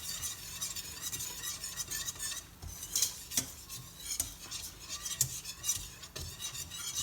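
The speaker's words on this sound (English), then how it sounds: "And then you put in the flour. And you start to whisk it." A whisk scrapes and taps against a pan while blending flour into about a quarter cup of vegetable oil for enchilada sauce, giving quiet, rhythmic metallic stirring with a few sharper clinks.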